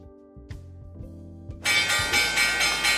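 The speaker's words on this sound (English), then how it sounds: "there's the bell" A stock market opening bell rings in a sustained, bright metallic clang that starts suddenly and keeps pulsing steadily, preceded by a few soft tones and clicks.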